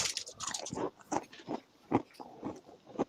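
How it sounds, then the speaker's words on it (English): Crunchy salted french fries being bitten and chewed close to the mic, a run of crisp, uneven crunches at an irregular pace. "I can hear those crunchy fries."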